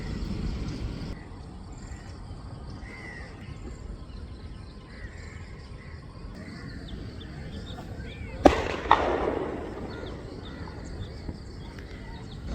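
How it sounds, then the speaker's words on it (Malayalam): Outdoor ambience near Cochin airport with faint bird calls, then a sharp firecracker bang, thrown to scare birds, followed by a couple of smaller pops and a lingering rumble. "ആ ചേട്ടനാണ് പടക്കെറിഞ്ഞ് പൊട്ടിക്കണേ, പക്ഷികളെ ഓടിക്കാൻ വേണ്ടി കേട്ടോ"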